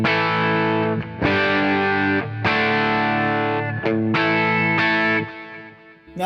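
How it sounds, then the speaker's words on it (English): Electric guitar on a clean preset run through BB, RC and Woodshed comp pedals, sustained chords struck about five times with ringing decays, loud and alone. "we're hearing the RC and the Woodshed comp in clean 2"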